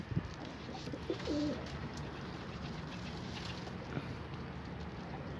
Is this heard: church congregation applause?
no